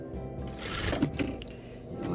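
A sewing machine stitches a welt pocket on outer fabric, running in a fast, steady mechanical whir with light clicks, close by and continuous.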